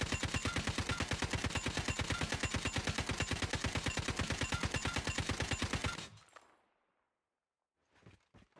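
Rapid automatic gunfire from a weapon in the mobile shooter CODM DMZ, a loud, steady burst of evenly spaced shots lasting about six seconds before cutting off, followed by a short pause and a couple of faint clicks.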